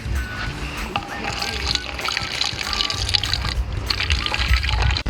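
Water splashes and trickles steadily into a 4M water rocket bottle outdoors, a continuous pouring sound with voices talking over it.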